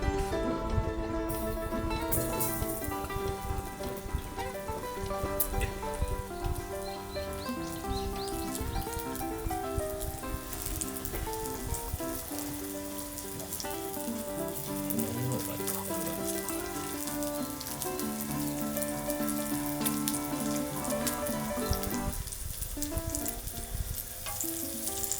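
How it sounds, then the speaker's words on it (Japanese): Crayfish caught from an irrigation ditch frying in a heated frying pan over low heat make a sustained sizzle and crackle with scattered pops, while tonal background music plays over it. "熱したフライパンにエビを弱火で炒める"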